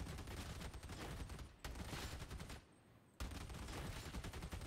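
The Achilles gun in Warhammer 40K: Darktide fires in long, dense bursts of rapid shots, loud and close. A short pause cuts into the first burst, and a longer gap follows before the fire resumes.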